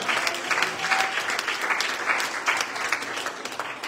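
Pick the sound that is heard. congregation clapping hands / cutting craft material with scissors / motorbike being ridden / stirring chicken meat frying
congregation clapping hands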